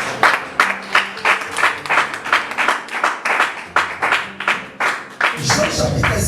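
A church congregation claps along in a steady rhythmic beat, fairly close and moderately loud, with no speech over it.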